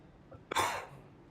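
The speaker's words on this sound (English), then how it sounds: "I wasn't ready to cough, but apparently it was time" A motorsport commentator coughs once, a short sharp burst with a trailing rasp, near and fairly loud over quiet background.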